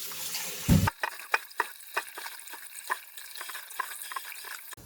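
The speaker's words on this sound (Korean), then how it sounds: "5분 정도 물에 담궈뒀던 고구마를 한번 씻어줍니다." Soaked sweet potato pieces are rinsed by hand in water, opening with a brief splash of running water and followed by a series of light sloshing and clattering sounds in a bowl.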